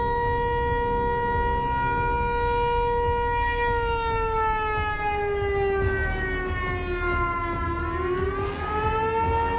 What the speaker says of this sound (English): The light and happy music performance was replaced by an eerie, deafening air raid siren.